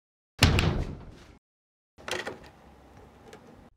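Two door sounds from a sound effects library, a loud close slam with rattle followed after a pause by a softer thud and creaky settling.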